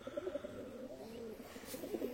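A feather-footed pigeon in a breeding loft gives a soft, short series of low coos, faint and close, repeating a few times over quiet background.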